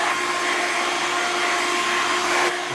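A hair dryer drying the inside of the hair after a haircut gives a loud, steady, close-up whoosh with a constant motor whine. It runs without a break and with no talking.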